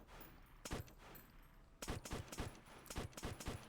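Rifle gunshots from an SVT in Call of Duty: World at War, a single sharp crack followed after a pause by a rapid series of loud, closely spaced shots, each with a short echoing tail.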